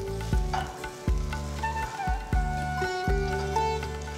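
Rice being stirred and mixed in a pan over a low flame for Indian gooseberry (nellikai) rice: soft sizzling with several distinct scraping strokes of a spoon against the pan, close and steady, with faint music in the background.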